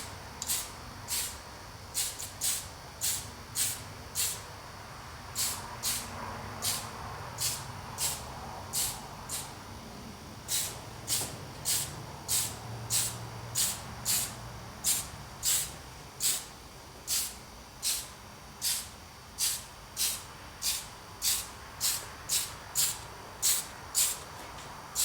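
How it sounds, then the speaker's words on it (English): Black spray paint hisses from an aerosol can onto model train tracks in repeated short bursts, roughly one per second, close and steady, each with a sharp airy onset over a faint background. "all the black spray paint's now on"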